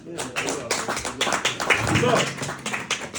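Scattered, uneven clapping from a small audience at a bass guitar clinic, with individual hand claps distinguishable and a voice talking over part of it.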